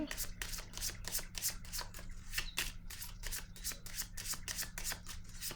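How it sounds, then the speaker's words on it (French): Tarot cards being shuffled close by in a quick run of crisp riffling flicks over a low steady hum, with soft speech faintly in the background. "Je vais déposer une carte sur la peur."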